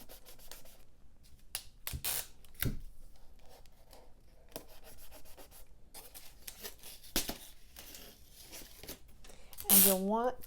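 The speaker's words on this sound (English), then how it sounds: "you're going to tape the handle to your pan." Tape pulled off a roll and pressed onto a pan handle: faint, intermittent rips and rubbing scratches scattered through a quiet room, with a sharper tear near the end and a voice speaking throughout.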